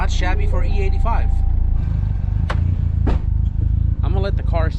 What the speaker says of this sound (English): I'm gonna let the car sit there and idle for like 15 minutes or so